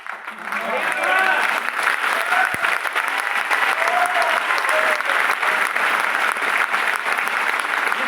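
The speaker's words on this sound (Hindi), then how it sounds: "ये ताली ना सुकून दे रही है अलग सा।" Audience applause at a stage program in Guwahati, a dense, sustained clapping from a large crowd that swells in and holds steady and loud, with a few voices briefly audible within it.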